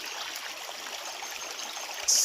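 Water rushes steadily at Dharapalli waterfalls, a continuous even hiss of flowing stream close by, with a brief brighter splash at the very end.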